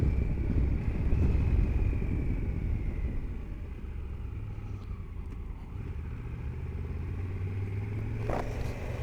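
A Triumph Tiger 1200 GT Explorer motorcycle on a test ride gives a steady, low engine rumble mixed with wind noise, holding a fairly even level throughout with no talking.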